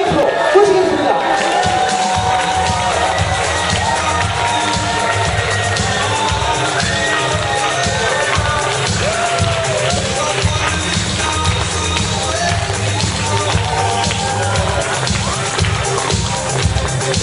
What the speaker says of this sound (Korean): 뜨거운 함성과 박수 부탁드리도록 하겠습니다